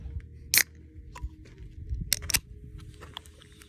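A can of Bang energy drink cracked open outdoors at a mountain truck campsite, with a sharp click followed by a second snap-and-hiss burst, close and brief amid quiet handling noises.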